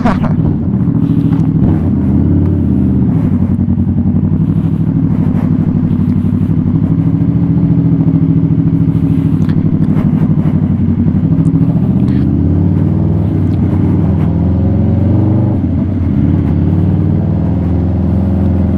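A 2016 Kawasaki Vulcan S ABS with a Two Brothers full-system titanium exhaust under way, its engine a loud, steady, close drone with gentle rises in pitch and constant wind rumble throughout.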